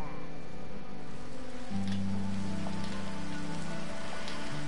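Soft, steady rain patter in a video game plays at low level, with sustained electronic hum tones and brief buzzing layered over it, and no talk.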